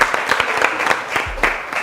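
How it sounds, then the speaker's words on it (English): A short burst of scattered clapping from an audience at a school quiz competition between Jinja College and St Henry's College Kitovu, with uneven hand claps fading in and out. "let's give a huge round of applause"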